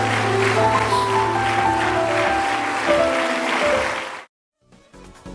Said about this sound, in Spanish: Den un fuerte aplauso al Señor